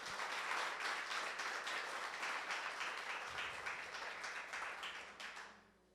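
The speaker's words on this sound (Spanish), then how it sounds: "Yo quiero un aplauso para nuestra coordinadora." An audience applauds a coordinator at a gathering, steady dense clapping across the whole stretch that fades out near the end.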